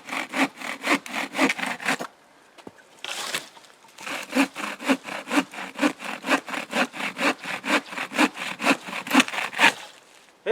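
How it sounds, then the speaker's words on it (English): A cheap dollar-store bucksaw cuts through dry firewood outdoors in rapid, rhythmic rasping strokes, close and loud, pausing briefly before resuming an even back-and-forth cadence. "I'm going to bring this down and saw this again while it's horizontal."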